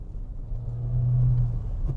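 A 9th-generation Toyota Corolla with a 1.6 engine and 5-speed gearbox revs while driving; its mid-pitched engine drone swells and holds steady, close and clear with no talk.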